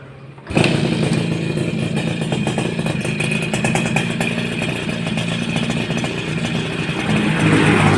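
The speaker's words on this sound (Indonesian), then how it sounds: "Klik kedua baru bisa mesin nyala." A Suzuki RC100 motorcycle engine fires up after a brief silence and settles into a steady, close, rattly running note that holds for several seconds, with a slight rise near the end.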